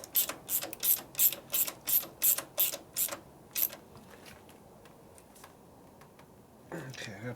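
A ratchet tightens a nut down onto a terminal during repair work on a 1965 Harley-Davidson panhead 74ci FLH. About ten sharp, close ratcheting bursts come in a quick steady rhythm, then a quiet pause with a short rustle at the end.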